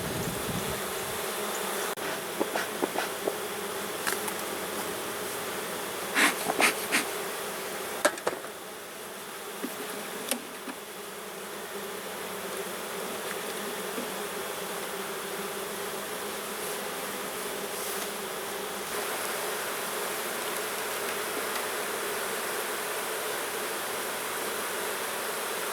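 Honey bees buzz densely and continuously around an opened hive while frames of honey are handled, a close, steady drone with a few light knocks and clicks early on and no talking.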